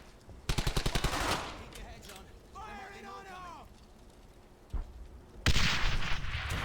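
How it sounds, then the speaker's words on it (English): Rapid bursts of automatic gunfire in the World War II video game Brothers in Arms: Hell's Highway, loud and close, with a lull between bursts where a voice speaks. "We got grenades on them"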